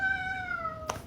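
A house cat gives one long, drawn-out meow with a slowly falling pitch, fairly close, then a short chirp or squeak at the end, alone with no talking.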